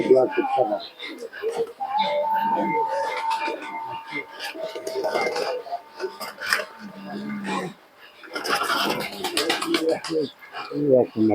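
Pigeons kept in a long-established family loft coo in low, soft, repeated calls, close by, mixed with chatter and talk from several people throughout.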